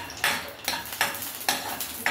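Cashews frying in a hot pan while being stirred, a steady sizzle broken by about five regular scraping strokes, close and loud with no talking.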